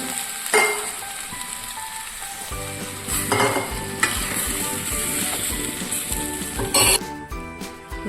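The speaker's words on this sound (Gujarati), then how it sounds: "આ રીતે આપણે બધું મિક્સ કરી દીધું." Boiled potatoes get stirred into a frying pan mixture for a fasting-day farali dish, a loud, close sizzle with repeated scraping and a few bright metallic clinks of the spoon.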